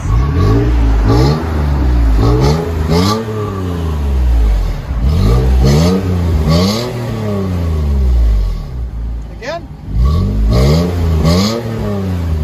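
A Toyota Tacoma 4.0L V6 with an aftermarket exhaust revs repeatedly, each loud, close rise and fall of engine pitch following the next, with a brief spoken word partway through.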